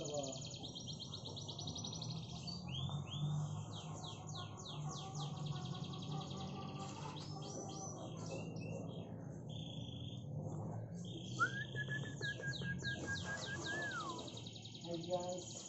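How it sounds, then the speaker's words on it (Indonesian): A canary sings among other small cage birds, rapid chirps, trills and whistled phrases running continuously at moderate distance, with faint background hum and scattered other calls. "Oh, kenari."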